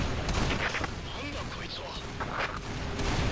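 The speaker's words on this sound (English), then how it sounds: "I got one volley of rockets off." Rocket volley launched in the Earth Defense Force 4.1 co-op game, a dense spread of booming bursts and blasts running steadily through the moment with a voice speaking over the gunfire.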